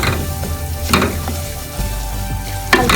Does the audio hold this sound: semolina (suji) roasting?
yes